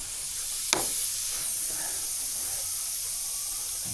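A steady, bright hiss of water spraying from a leaking hose on a greenhouse rainwater watering system runs throughout, with a sharp tick near the start and faint rustles underneath.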